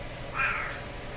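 A house cat meows once indoors on a rainy day, a single drawn-out mid-pitched call rising over a steady background hiss.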